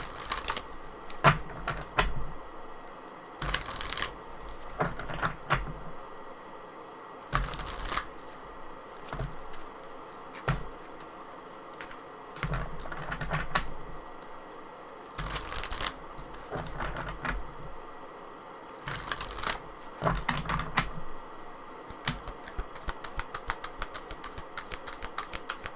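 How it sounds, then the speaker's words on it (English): Archetype cards shuffled by hand in repeated bursts of riffling and flicking, close and fairly loud, with short pauses between rounds and no voice. "I'm going to just pull some archetype cards here just to set the scene."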